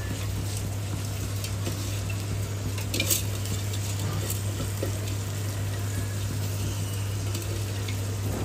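Rice for khichuri fries in a pot with a soft, continuous sizzle and occasional scraping clinks of a stirring spoon against metal, over a constant low hum.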